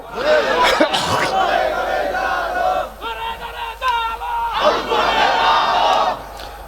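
A large crowd at a religious gathering roars a takbir chant in unison, loud and close, in two sustained surges separated by a brief lull.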